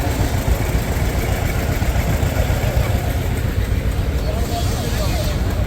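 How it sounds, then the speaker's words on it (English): A 1954 John Deere 60 tractor engine running at a steam power show in Sycamore, Illinois, a steady, close rumbling idle heard under someone talking throughout. "Here we've got a John Deere 60"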